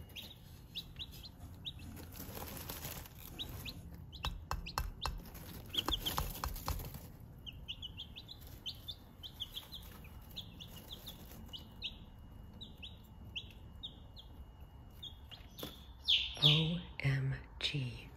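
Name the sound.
young chickens clucking and chirping in a pen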